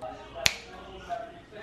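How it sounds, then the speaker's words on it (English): A single sharp finger snap, close and crisp, rising out of a quiet room near a broken faucet, with faint background hum before and after. "I'm just gonna snap my fingers like that"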